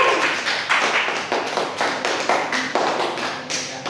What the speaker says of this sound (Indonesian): Tepuk tangan buat Moro dan Herlin.